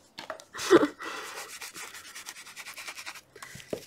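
Paper or a sponge rubbed onto a journal page, a close, soft, scratchy swishing in quick repeated back-and-forth strokes, beginning with a louder scrape.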